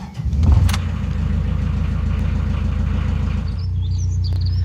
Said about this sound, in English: Then I can start the engine.